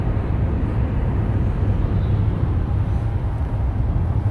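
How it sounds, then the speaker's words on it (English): A low-flying airplane passes overhead near Newark Airport in New Jersey on a morning, producing a steady, loud, broad roar that fills the whole stretch without letup. "Plane just flew right over us."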